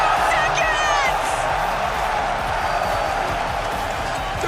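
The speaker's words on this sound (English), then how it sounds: "The crowd erupting," Crowd at the RLCS World Championship 2024 esports event roaring and cheering loudly in a dense, sustained wall of noise from a large arena, with whoops rising above it.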